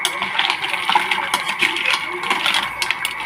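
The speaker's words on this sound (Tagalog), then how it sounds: "Lagyan tubig" Water pours into a pot of mussel soup, a steady splashing gush with small clinking knocks, close and fairly loud, lasting a few seconds.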